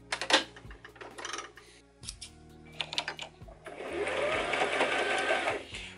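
Sewing machine stitching sweater fabric with white thread, a close, fast mechanical rattle in short bursts, then a longer steady run of stitching.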